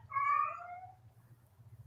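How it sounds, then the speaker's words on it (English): A house cat lets out a single loud, drawn-out meow, close and clear, trailing off as a low hum continues in the background. "Do you hear this cat?"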